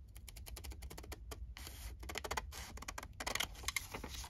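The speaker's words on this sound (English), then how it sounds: "I'm just going to use my scissors" A rapid run of crisp snipping clicks, close and fairly quiet, as scissors cut out paper postage stamps in short irregular bursts.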